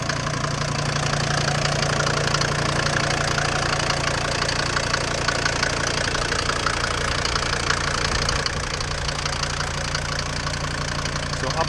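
A 1993 Mercedes G-Class 250 GD converted to a 2.9-liter 290 GD turbo diesel with intercooler idles steadily and loud, a dense, even engine drone with faint knocking throughout, no voices.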